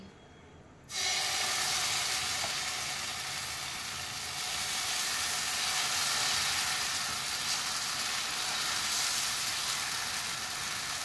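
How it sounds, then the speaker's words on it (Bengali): Poha chila batter hits an oil-brushed tawa with a sudden loud burst of sizzling that settles into a steady, close, continuous hiss without pause. "আমি চাটু বসিয়ে দিয়েছি, চাটুতে তেল ব্রাশ করে দিয়েছি। এবার আমি এবার ব্যাটারটা দিচ্ছি।"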